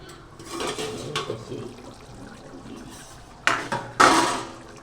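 A lid lifted off a pot of chicken curry, heard as a few metallic clanks and a rush of steam and bubbling toward the end after quieter kitchen noise.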